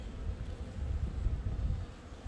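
Honeybees buzz at frames taken from a hive on a windy, rainy day, a low, wavering drone close to the microphone, mixed with wind rumble.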